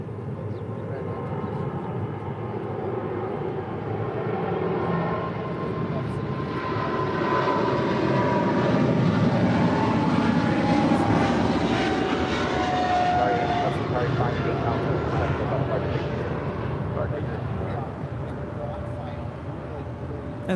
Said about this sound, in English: That's Guitar Cargo 58 Alpha departing to Liège on a 777 freighter.